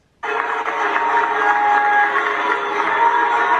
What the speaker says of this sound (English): They're booing her.